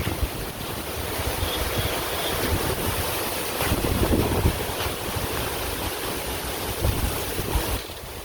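Steady wind blows through a Bangladeshi village, a loud constant roar buffeting the microphone, with slightly stronger gusts midway and no one speaking.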